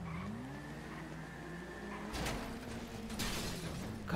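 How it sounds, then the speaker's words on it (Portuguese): In GTA V, a car crashes and flips over on a street, giving a skidding tire squeal, then two sharp impact crunches with rattling metal over a low engine hum. "o maluco capotou o carro aqui, mano"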